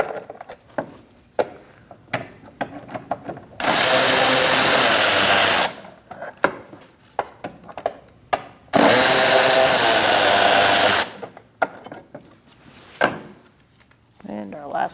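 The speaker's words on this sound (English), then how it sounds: "we're going to use our T20 Torx bit socket, and we're going to remove those 4 bolts" A power driver with a T20 Torx bit socket removes fog light bolts on a 2008-2014 Mercedes-Benz C300. It gives two loud whirring bursts of a few seconds each, with clicks and handling noises between them.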